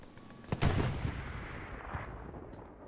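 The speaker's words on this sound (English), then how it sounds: "You can hear the MG." A machine gun fires at a distance on the Omaha map in Hell Let Loose, with a heavier boom and rumble near the start and scattered later shots over a low battlefield background.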